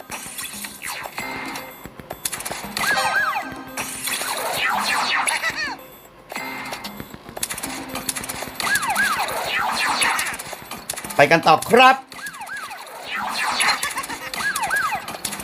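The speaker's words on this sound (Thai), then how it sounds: "หวอหวอ" A siren wails loudly in repeated rising and falling sweeps, broken by short pauses and a burst of rapid clatter, with someone speaking briefly.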